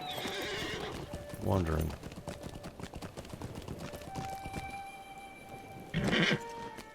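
Horse hooves clip-clop steadily while a horse whinnies twice in the fantasy video game LOTRO, a voice talking briefly over the game sounds.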